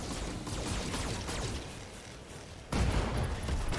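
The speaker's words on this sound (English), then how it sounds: "Firing everything I've got." A mech in the game BattleTech firing all its weapons, with a dense, continuous barrage of shots and blasts and a louder impact burst near the end.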